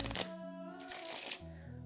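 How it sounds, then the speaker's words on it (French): Playing cards ruffle in a brisk riffle shuffle, two quick bursts of fluttering card edges close by, with faint talk in the background. "La dernière fois, on a vu le mélange à l'américaine, comme ceci."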